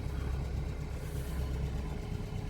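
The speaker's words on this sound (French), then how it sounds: "Bon, là il est branché parce que je suis à l'arrêt, le moteur tourne." Renault 4L engine idling while the car sits stopped, a steady low rumble with constant texture throughout, close and moderately loud, no voices.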